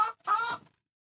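A backyard chicken being fed gives two short clucks close by, a quick clipped one followed by a longer, fuller call, then silence.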